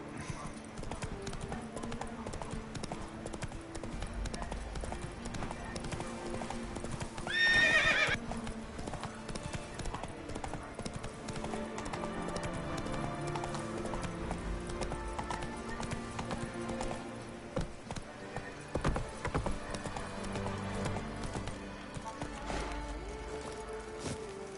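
Steady clip-clop of the horse Roach galloping in The Witcher 3, with a brief whinny partway through, continuous hoofbeats under game ambience.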